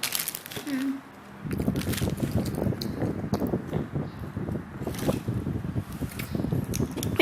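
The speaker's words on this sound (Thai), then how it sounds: "เฮ้ย ลมแรงว่ะ" Strong wind blows into the microphone indoors, producing continuous loud low rumbling and buffeting gusts after a brief quieter moment near the start.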